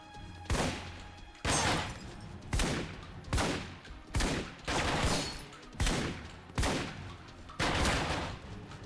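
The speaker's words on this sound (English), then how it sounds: "That's why I brought the shotgun, just for a bunch of blind fire." Shotgun fired blind in Alpha Protocol, nine heavy booming blasts spaced about a second apart, each a loud, close burst that fades quickly before the next.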